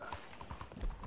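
Horse hooves clip-clopping at a gallop in Red Dead Redemption 2, an online cowboy video game, with a steady rhythmic beat, close and moderately loud, and a hint of whinnying.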